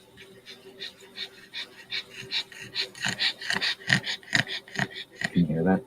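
A dog pants rapidly in the heat at night, a run of short rhythmic breathy puffs that grow louder and quicken toward the end, heard close and fairly quiet.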